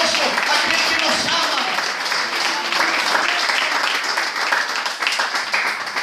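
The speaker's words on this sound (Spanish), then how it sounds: "¿Cuántos le dan un aplauso al Cordero en esta noche?" A congregation applauds during a Pentecostal church service, dense sustained clapping from a large crowd with voices mixed through it.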